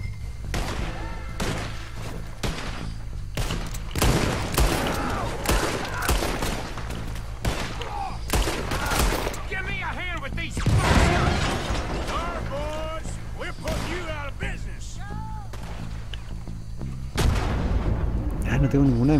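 Rapid bursts of gunfire and heavy explosive booms crack repeatedly through a Red Dead Redemption 2 game soundscape, loud and dense, with voices talking underneath.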